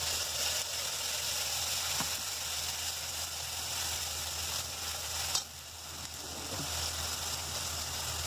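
Spice paste with browned onions sizzles steadily in a frying pan in a home kitchen, a continuous close hiss with a soft clink of the utensil around the middle.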